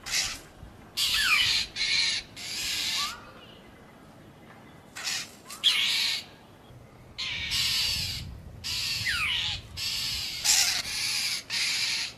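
A crow caws repeatedly in harsh, raspy bursts, several calls in a row with short pauses, loud and close over faint background noise.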